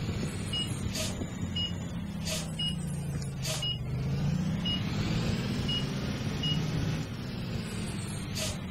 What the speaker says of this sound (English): Oh, I hear a bus over there.